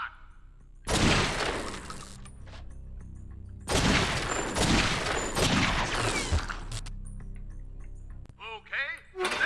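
Gunshots from True Crime: New York City ring out in loud bursts of rapid fire separated by quieter gaps, with a voice talking briefly near the end.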